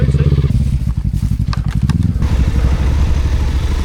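A Suzuki 800 DE off-road motorcycle engine thumps steadily up close, rising through an uneven, throttled rev and then settling into a dense, pulsing run, with clattering mechanical chatter throughout.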